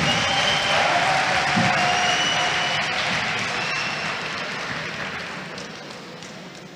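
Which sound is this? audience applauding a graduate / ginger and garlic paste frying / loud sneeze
audience applauding a graduate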